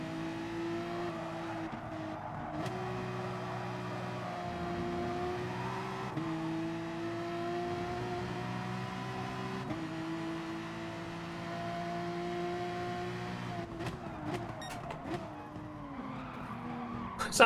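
A race car sliding with long, steady tire squeal and skidding in the video game Gran Turismo Sport, engine droning underneath, pitch shifting as it corrects, loud and continuous with scrappier squeals near the end.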